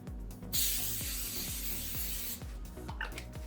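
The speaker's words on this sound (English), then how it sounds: "Next, you grab a pan, hit it with a little bit of nonstick." Nonstick cooking spray hisses onto a pan in one sustained close burst of about two seconds, with light clicking and kitchen handling noises around it.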